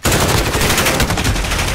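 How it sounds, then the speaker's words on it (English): Gunfire through walls in Call of Duty: Modern Warfare, heard as a dense, loud burst of rapid automatic shots close by, continuous from start to finish with no talk. "He's literally shooting through the wall."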